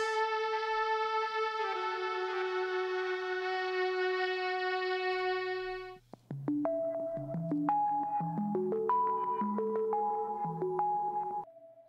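A sustained reedy synth saxophone tone from iZotope's Iris synth, followed by a sequence of bright stepping notes that ring out with echoing delay and reverb.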